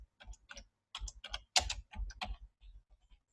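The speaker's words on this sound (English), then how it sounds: "all you got to do is click in it and type something" Typing notes on a computer keyboard, a close, crisp burst of clustered key clicks in uneven groups that taper off into a few sparse taps.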